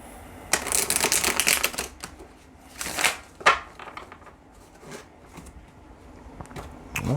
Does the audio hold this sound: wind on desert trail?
no